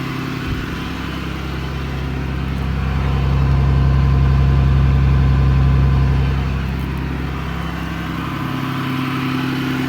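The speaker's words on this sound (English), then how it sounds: "The motor sounds good." A 2009 Dodge Ram 5500 utility service truck idles with a steady, low diesel rumble, close and loud, swelling slightly in the middle before settling back to an even idle.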